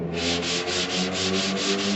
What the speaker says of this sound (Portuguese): Lixamento a seco, tem o problema de entupir a lixa